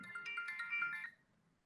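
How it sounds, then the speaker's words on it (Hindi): A mobile phone ringtone for an incoming call plays a short, quiet melodic chime that fades out, followed by a sharp click at the end. "हाँ मम्मी का फोन आ रहा था"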